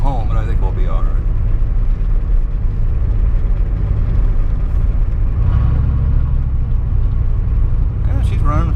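A 1990 Ford F350 with a 7.3 IDI diesel engine rumbles steadily while driving down the road, loud and close, with speech over the engine noise.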